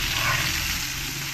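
Chopped kudri (ivy gourd) and potatoes fry in oil in a pan, giving a short, steady, close-up sizzle with no distinct breaks or voices.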